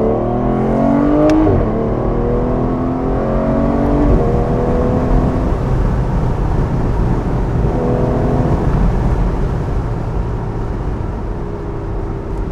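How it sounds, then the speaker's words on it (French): An Aston Martin Vanquish Volante in sport mode, with its louder exhaust, revs hard: loud rising engine sweeps climb and drop, then settle into a sustained, throaty roar close by. "Donc on sent que l'échappement fait beaucoup plus de bruit."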